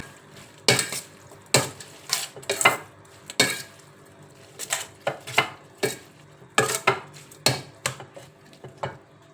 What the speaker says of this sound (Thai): เราก็จะคลุกเค้านะคะให้ยำของเรานะคะ เข้าน้ำเข้าเนื้อค่ะ